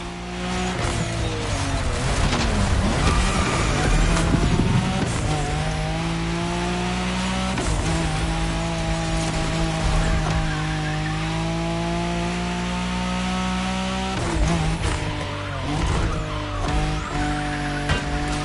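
Race cars overtaking in The Crew Motorfest video game roar with loud, steady engine whines that rise and shift in pitch, continuous throughout with no talking.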